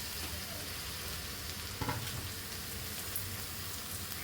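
Capsicum pieces frying in a pan after ginger-garlic paste, a quiet steady sizzle with one short clatter of utensil against the pan midway, otherwise even and unbroken.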